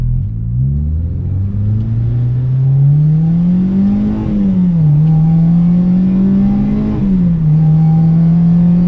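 A Honda Civic Type R EP3 on a race track, engine note climbing steadily under acceleration with loud, close cabin drone, brief dips at each gear change before pulling again, no voices.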